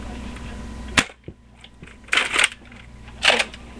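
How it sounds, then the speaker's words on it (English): A Recon toy gun fires several sharp snapping shots, spaced irregularly across a few seconds, loud and close, with a quieter click between the bursts. "now I'll show the shooting of it"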